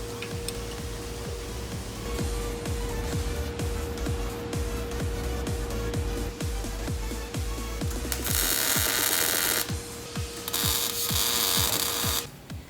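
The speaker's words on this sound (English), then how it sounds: "A little massaging of the hammer gets this exhaust hanger at the right angle." Rapid, evenly spaced metallic hammer taps on an exhaust hanger for an E30 LS-swap custom exhaust ring out in a long steady series, with a constant mechanical hum and bursts of hissing noise behind.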